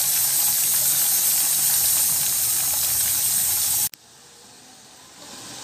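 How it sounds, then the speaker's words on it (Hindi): Okra (bhindi) frying in hot oil in a pan gives a loud, steady sizzle and hiss, which cuts off sharply and returns as a quieter hiss. "ये हमारी भिंडी को हम फ्राई कर रहे हैं।"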